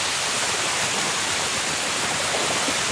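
Lamba Falls waterfall in Banga, South Cotabato: a steady, loud, close-up broadband rush of falling water that stays constant throughout with no break.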